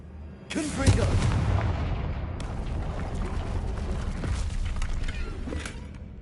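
Hogwarts Legacy Confringo fire spell explosion: a sudden heavy boom followed by a long, roaring, crackling rumble that holds steady for several seconds, loud and near.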